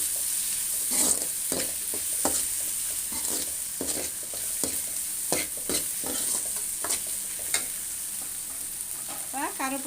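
Tomatoes and shallots sauté in a pan for a fish curry, a steady hiss of frying under repeated scraping stirs at an irregular rhythm, close and fairly loud, with no talk.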